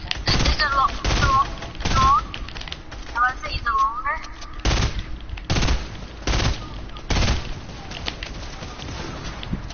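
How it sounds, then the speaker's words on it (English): Gunfire in Fortnite, loud bursts of rapid shots with repeated sharp cracks spread across the span, while players talk over the shooting. "Oh yeah, we're getting shot at."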